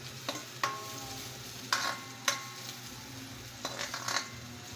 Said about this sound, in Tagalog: Sina, ginisa na rin ang luya.